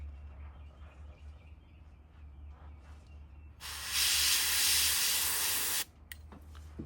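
Airbrush paint spraying a kill dot onto a shad fishing lure: a steady hissing burst lasting about two seconds, sharp onset and cutoff, over a low constant compressor hum.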